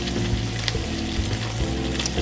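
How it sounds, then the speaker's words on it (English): Pancetta sizzling and frying in a pan as its fat melts down, a dense continuous crackle with small pops, close and loud with no talking. "you just want to melt all that fat in the pancetta"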